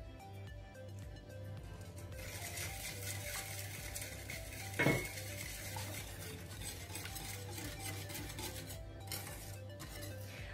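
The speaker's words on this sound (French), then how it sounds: "je mélange, j'ajoute le lait" Muffin batter with praline roses is stirred in a bowl after milk is added, a faint steady scraping and clinking of utensil against the bowl with one sharper knock partway through.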